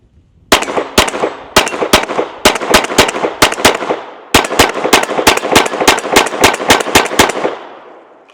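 Rapid strings of sharp, loud .22 rimfire shots from an unsuppressed Smith & Wesson M&P 22X rifle firing Super X 22LR hyper velocity copper-plated hollow points, several quick bursts with brief pauses, outdoors and close.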